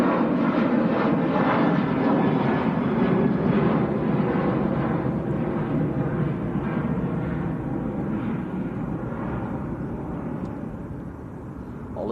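Ryanair jet bound for Brussels climbing out steeply from Manchester airport, a loud continuous broadband engine roar that stays steady and slowly fades slightly as it departs, with no talk over it.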